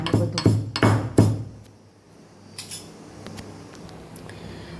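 A spice mix with salt is pounded coarsely for Kathiyawadi chorinu shak: four or five sharp metallic clanks come in quick succession, then a lull and a couple of fainter knocks.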